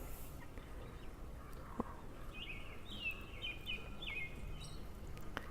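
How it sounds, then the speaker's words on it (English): Faint robin song drifts in from a distance in a garden, a few clear whistled phrases repeating over a soft outdoor background hiss. "Can you hear the birds? Are singing to me?"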